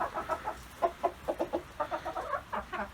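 Chickens and roosters clucking in a Ukrainian farmyard, a quick irregular run of short close clucks, fairly soft, with no talk over them.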